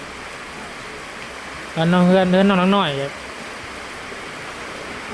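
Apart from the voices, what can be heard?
rain falling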